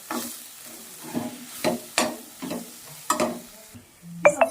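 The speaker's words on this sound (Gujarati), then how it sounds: "મસાલાને સારી રીતે હલાવી અને વળીથી ઢાંકવા દઈશું." A spoon stirs and scrapes a spice mixture with jaggery cooking in a pan, producing a series of rhythmic scraping strokes over a soft sizzle, close and clear with no talking.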